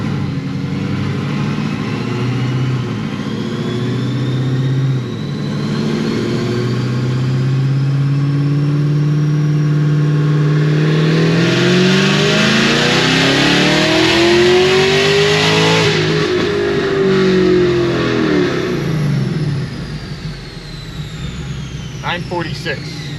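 A Magnuson 2650-supercharged Cadillac CTS-V, tuned to around 1200 hp, revs loudly and climbs in pitch to about 6,500 rpm, then drops back. The engine sound is continuous and close, and speech runs underneath it.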